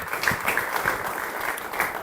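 A church congregation applauds to welcome newcomers during a service, a steady dense wash of clapping and cheering that stays loud and even throughout, with no talk over it.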